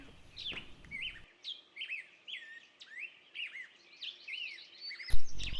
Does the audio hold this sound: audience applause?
no